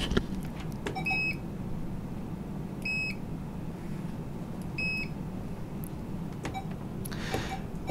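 A barcode scanner at a convenience-store POS register gives three short, clear electronic beeps spaced about two seconds apart as items are scanned, over a quiet background hum with faint handling clicks.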